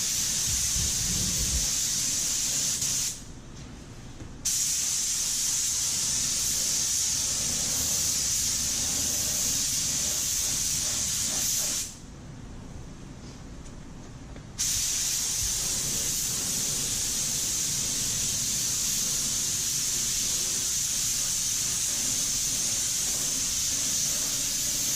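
A paint spray gun sprays a panel with a loud, steady hiss, broken by two short pauses of a few seconds each when the trigger is released.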